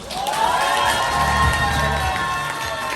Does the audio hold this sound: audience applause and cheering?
yes